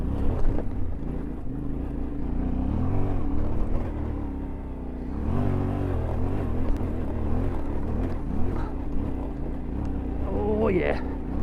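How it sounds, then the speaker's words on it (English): A Yamaha Tenere World Raid adventure motorcycle climbs a steep off-road hill, its engine droning and rising under load with shifting revs, loud and close, while a rider talks over it. "Look at that tractability of the motor, man."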